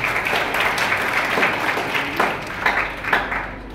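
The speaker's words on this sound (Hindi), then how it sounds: "बच्चे के लिए जोरदार तालियां।" A school audience at a girls' college event gives a student a loud, sustained round of applause, with the clapping swelling in a few bursts and faint voices underneath.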